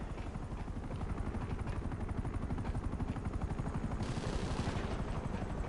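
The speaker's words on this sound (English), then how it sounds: "Because I hear a helicopter." A helicopter in a video game thumps with a continuous rapid rotor chop throughout, close and steady, mixed with bursts of automatic gunfire.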